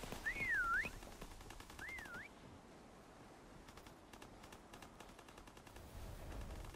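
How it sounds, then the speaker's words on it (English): Rapid machine-gun fire in the game Call of Duty WWII prop hunt, shooting at a decoy barrel, sounds as faint clusters of quick shots, preceded by two short wavering whistles. "They shot my decoy barrel."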